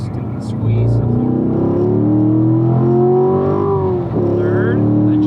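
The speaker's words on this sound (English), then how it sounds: "Third, adjust your throttles. Accelerate down the hill." A race car on a racetrack driven by a Ron Fellows driving school instructor accelerates downhill, engine pitch climbing steadily through a gear, briefly dipping at a shift, then pulling again, loud and close from inside the car.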